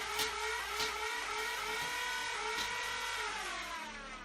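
A modified Nerf Demolisher blaster's motorized flywheels spin up to a loud, steady whine, with a few sharp clicks of darts firing through it, close up with no talking.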